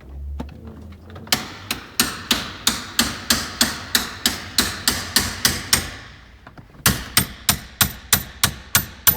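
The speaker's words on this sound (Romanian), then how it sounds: "Dă-i cu ciocanul aici." A hammer pounds metal on a damaged jeep in a steady run of loud, ringing blows, about a dozen in a row, then a short pause before another quick series.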